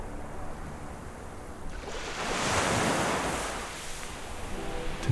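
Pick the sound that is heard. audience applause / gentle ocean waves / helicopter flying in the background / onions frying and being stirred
gentle ocean waves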